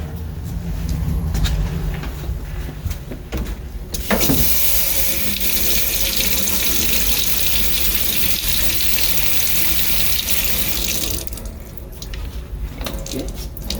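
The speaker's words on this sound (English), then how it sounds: "I'll have to cool it off by running it under cold water" Cold water runs from a tap over a hot 3D printer nozzle, a loud steady gush that swells to a harsher hiss in the middle and then settles back.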